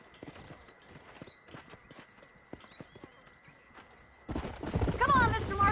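Horse hooves from the Western game Red Dead Redemption clip-clop in an irregular walking rhythm, then a louder burst of movement and a whinny-like sound rises near the end.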